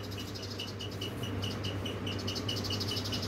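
Small sparrow-like birds chirp near a parked motorbike outdoors, a rapid regular series of thin high calls repeating steadily over a constant low background hum.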